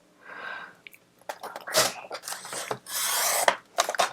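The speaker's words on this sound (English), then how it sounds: "Actually, I'm going to trim this piece a little bit." A paper piece for a summer flip book is trimmed by hand, with several rough rasping cuts and rustles in uneven bursts, close and fairly loud.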